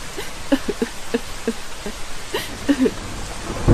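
Steady rain patter with scattered drips and soft tapping, a noisy wash throughout, ending in a louder low rumble.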